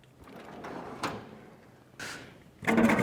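Drawers of a rolling toolbox being converted into a welding cart sliding open and shut, three distinct metallic scraping slides spaced about a second apart, the last one louder and longer, close by.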